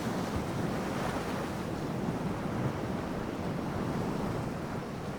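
Steady ocean surf rolls along the South African coast, a broad continuous wash of waves mixed with wind rumble, loud and unbroken throughout with no voices.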